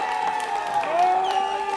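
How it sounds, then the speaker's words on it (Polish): Steady applause from a crowd at the Rockołęka 2013 results ceremony fills the whole stretch, with a sustained tonal hum running underneath the clapping. "Wielkie oklaski wbiegają na scenę!"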